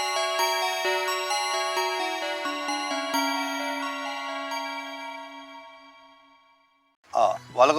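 An outgoing phone call rings with a repeating electronic ringback tone that sustains and slowly fades over several seconds, followed by a voice starting to speak.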